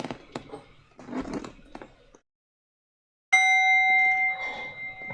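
The closing bell of the stock market rings with a sharp, sustained electronic tone that starts suddenly after a silence and holds steadily for about two seconds. Softer rustling and handling noises come before it.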